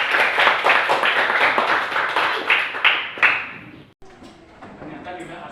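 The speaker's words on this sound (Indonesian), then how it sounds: "Bagus sekali, tepuk tangan." Classroom applause: a group of pupils clapping briskly and steadily for about three seconds, tapering off, followed by a teacher speaking in a room.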